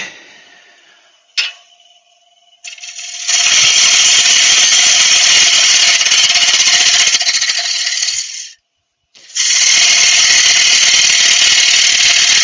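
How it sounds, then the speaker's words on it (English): A wood lathe spins a banana wood bowl as a gouge cuts into it, a loud, sustained harsh scraping whine up close, with a short lull near the start and a brief stop before the cut resumes. "lathe speed is fairly important for this piece"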